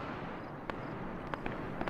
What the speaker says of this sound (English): hear a little gunfire